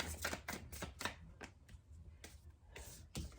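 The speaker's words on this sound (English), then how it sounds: "Let me shuffle these up." Tarot cards being shuffled by hand: a quick run of crisp riffling flicks and slaps, close and fairly loud, with brief pauses between bursts and no talking.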